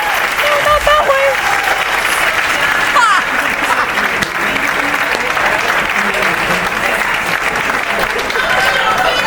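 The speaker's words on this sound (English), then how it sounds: "These poor people have to keep clapping" A live audience in Phoenix applauds steadily, a dense wash of clapping with some cheering and shouts, loud and close, while people's voices talk over it.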